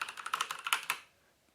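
Keys pressed in quick succession on a Havit HV-KB389L RGB backlit mechanical gaming keyboard with brown switches, about a dozen crisp close clacks over a second, then quiet.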